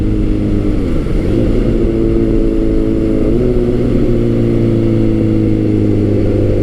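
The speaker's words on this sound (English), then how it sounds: "it's a very quick revving motor" A Kawasaki Z900 motorcycle engine runs loud and close with a steady mid-pitched drone, rising and dipping in pitch twice as it revs and pulls hard in top gear, with no talking.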